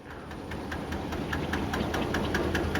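A steady, low engine rumble with a regular knocking pulse from a boat motor idling close by as it docks at a pier on the Chao Phraya River in Chai Nat, Thailand, continuous for the whole stretch.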